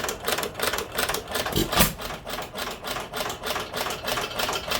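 Stover KE 1 1/2 hp hit-and-miss engine running with the choke lever open, a fast, steady, close mechanical clatter of rapid rhythmic beats.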